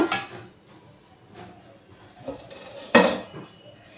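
A lid is set down on a cooking pot while bitter gourd and bori fry for shukto, giving a few soft metallic clinks and one louder clatter near the end, close by.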